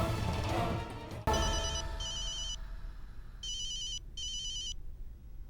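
An incoming call sets a telephone ringing in repeated electronic trill bursts after a sharp crash, the rings clear and fairly loud with short gaps between them.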